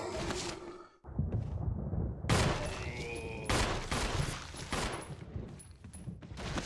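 Video-game gunfire pops in several loud, rapid bursts separated by brief pauses, with a short silence near the start and no talking.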